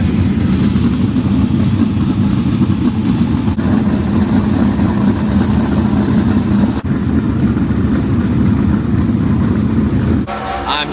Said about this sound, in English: we just got it fired up, and let me tell you what, they got a lot of sprint cars here